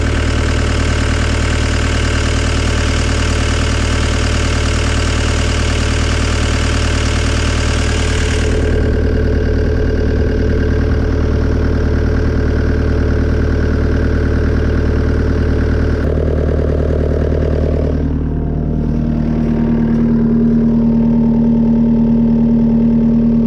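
A skid steer engine idles steadily up close, a low rumbling drone that shifts pitch partway through and then settles lower, with no voices.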